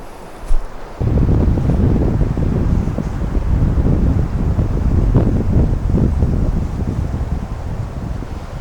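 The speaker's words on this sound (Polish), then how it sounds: "Myślałem, że samochód jedzie. A tu wiatr zawiał." A strong gust of wind rushes in suddenly and roars steadily across an open desert, buffeting the microphone with no voices.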